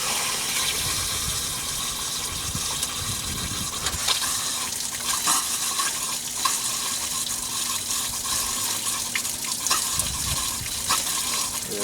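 Water flushes through the radiator of a 1962 Chevy Bel Air, a continuous splashing gush with scattered spatters and drips, steady and close throughout, with no voices.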